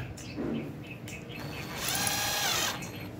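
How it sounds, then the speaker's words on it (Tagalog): A portable power drill with a special tile bit whirs in short bursts, then runs longer and louder while boring into a ceramic tile, heard close up. "Tapos gagamitan natin ng portable drill."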